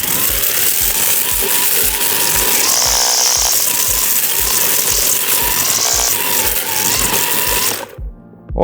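A cordless string trimmer whirs steadily at close range while cutting through weeds and hop vines, with a rhythmic thumping pulse before the motor cuts out near the end.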